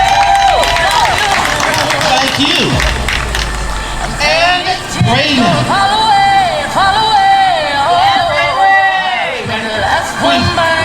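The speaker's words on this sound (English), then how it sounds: "Come on, give them a round of applause." An audience at a Juneteenth fashion show claps and cheers under an announcer's voice, with whoops and a steady crowd roar.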